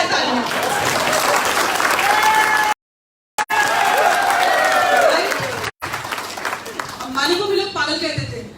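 Loud, sustained applause and cheering from a large crowd, briefly cut out twice, with voices shouting over the clapping.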